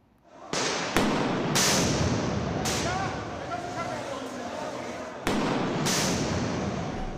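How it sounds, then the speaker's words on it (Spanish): Several sharp, loud firecracker bangs thrown at the Senate during a protest go off at irregular intervals, followed by crackling and a noisy crowd murmur between the blasts. "arrojaron al menos una decena de petardos hacia las instalaciones del Senado"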